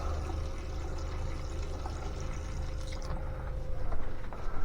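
Water runs steadily from an RV bathroom faucet in a continuous splashing rush, close and fairly loud, with no talking.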